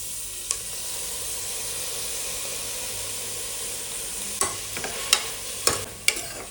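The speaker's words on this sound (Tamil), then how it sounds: "வெங்காயம் இப்போ கொஞ்சம் நல்லா வதங்கிடுச்சு." Onions sautéing in a pan for chicken biryani give a steady, close sizzle and hiss, with a few sharper stirring scrapes and pops toward the end and no voices.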